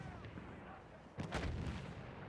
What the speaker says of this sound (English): We got a little bit of a mortar fight right here.